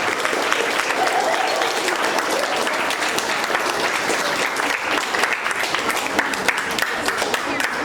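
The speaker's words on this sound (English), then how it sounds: "Another big round of applause for AB Honor Roll." Sustained applause from a school audience at a quarter-two awards ceremony, honoring AB honor roll students; dense, steady clapping fills the room throughout, with some voices mixed in.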